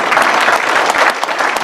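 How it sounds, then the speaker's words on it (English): Loud, dense applause fills a room at a legislators' breakfast forum, many hands clapping close by in a continuous roar with a few sharper individual claps standing out. "Let's give a round of applause, folks."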